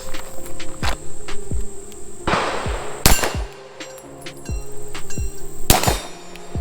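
CZ P07 pistol fired at a shooting range, several sharp loud reports spaced irregularly across a few seconds, with metallic clinks and ringing between shots and no talking.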